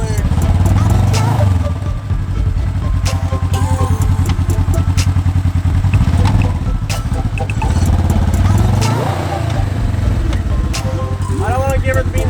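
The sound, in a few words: Polaris RZR 900 Trail Edition engine revving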